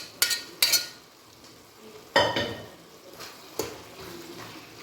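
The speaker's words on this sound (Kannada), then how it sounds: "ಈಗ ಹೆಸರು ಕಾಳನ್ನ ಆ್ಯಡ್ ಮಾಡ್ಕೊಳ್ಬಿಡೋಣ." Cooked green gram (moong) tipped into a pan and stirred with a spoon for a gravy, a few sharp clinks and scrapes against the pan over a faint, steady sizzle, close by and without talk.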